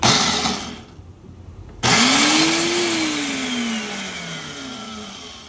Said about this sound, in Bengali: এই তো ব্লেন্ড করে নিব।